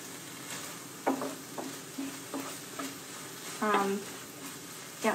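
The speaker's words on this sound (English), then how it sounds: "That's starting to sizzle." Food sizzles and fries steadily in a pan on a home stove, a constant hiss with several clinks of a utensil stirring, and a voice briefly heard in the background.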